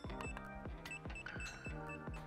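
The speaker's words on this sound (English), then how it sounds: "All right, so it's beeping." DJI Goggles V2 emitting a rapid series of electronic beeps while binding, a repeating patterned chirp of descending tones, close and clear with no talk.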